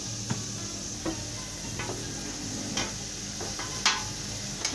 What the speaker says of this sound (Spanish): Procederemos a revolver la sal